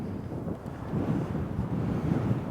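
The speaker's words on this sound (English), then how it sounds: "The wind's got up there, hasn't it?" Wind buffets the microphone in gusty, low rumbling bursts, loud and close, with no talking, on an island in Scotland.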